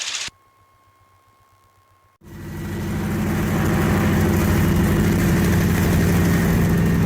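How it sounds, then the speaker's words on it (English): A North American AT-6 trainer's radial engine catches after a faint tone and near-silence, then swells into a loud, steady low roar as the propeller spins up and runs continuously, close and alone. "Now the prop's coming up."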